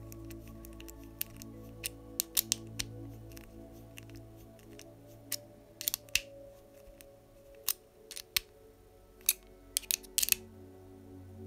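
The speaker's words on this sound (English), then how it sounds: "So we'll continue to screw this in all the way." Small ball connector being screwed into a Tamiya MB-01 model car chassis, giving faint scattered plastic clicks and ticks at close range over a quiet, humming background.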